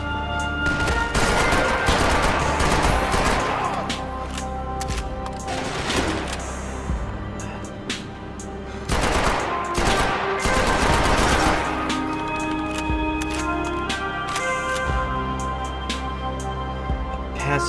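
Rapid bursts of automatic gunfire from the video game Max Payne 3 fill the scene almost without pause, loud and close, with heavier volleys swelling around the start and again midway.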